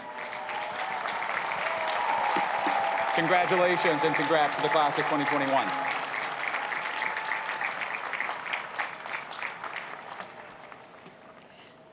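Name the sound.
round of applause for award winners at graduation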